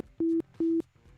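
A phone call drops as the caller's phone battery dies, leaving two short identical beeps of a disconnect tone, evenly spaced and fairly loud, over faint background hum.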